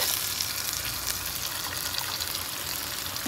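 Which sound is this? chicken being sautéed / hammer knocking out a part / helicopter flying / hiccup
chicken being sautéed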